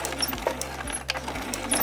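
Sewing machine stitching and back-stitching a seam joining two scrap fabric pieces of a leaf-shaped placemat, a steady low motor hum broken by short pauses where the direction changes.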